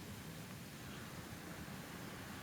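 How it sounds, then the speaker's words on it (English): Bubbling little stream beside a river in Sehlabathebe National Park, Lesotho, heard as a steady, fairly faint rushing wash with no voices. "we've got up to the sound of the bubbling little stream"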